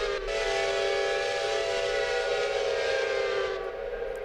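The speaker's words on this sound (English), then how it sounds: "that is a Rock Island 5 chime, which sounds quite delightful. Kind of very unique sounding whistle" A Rock Island 5-chime steam locomotive whistle sounds in a train simulation game, a loud, rich, sustained chord blown in one long continuous blast with no talking.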